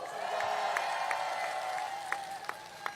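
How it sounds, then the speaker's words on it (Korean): Crowd applause at an outdoor election campaign rally in Jeju, a soft, distant wash of clapping and cheering with a steady tone running under it. "격려 박수 부탁드립니다"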